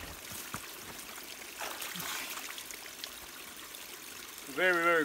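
A cold stream flowing outdoors at a bushcraft shelter camp, a soft continuous trickle and gurgle of running water heard at a moderate distance, with faint voice-like sounds and a brief tonal burst near the end.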